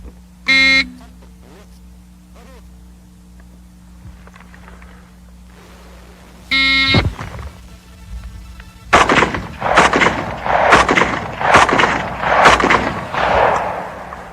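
Semi-automatic rifle fired at a target after a shot timer: two sharp electronic timer beeps, then a rapid string of loud, evenly spaced shots close by, each with a short echoing tail.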